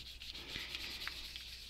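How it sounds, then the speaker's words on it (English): Polymer clay mokume gane pendants being burnished by hand, a quiet continuous rubbing with a few soft scuffs, close and faint with no talking. "let's just give these a quick burnish"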